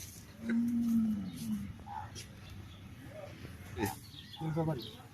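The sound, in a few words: bullock cow mooing at cattle market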